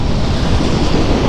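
Swollen floodwater surges past in a rain-fed river during the rainy season, the surrounding fields submerged; a loud, steady broadband roar with wind buffeting the microphone runs throughout, no voices.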